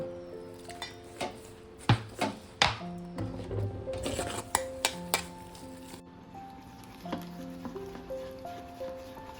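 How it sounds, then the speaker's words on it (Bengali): Topshe fish being mixed and beaten by hand in a batter with rice flour or cornflour, giving wet squelching stirs with sharp knocks against the bowl and clinks of utensils, close and steady, with no talking. "আমি এইভাবে এটাকে ভালো করে ফেটিয়ে রাখবো"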